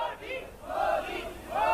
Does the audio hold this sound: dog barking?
no